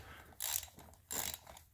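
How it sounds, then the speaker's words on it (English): A regular-sized ratchet with an extension and a magnetic spark plug socket works on the spark plugs of a Ford Focus ST, giving two short, close bursts of clicking ratchet turns. "I've got a regular sized ratchet, an extension, and a 5/8 magnetic spark plug socket."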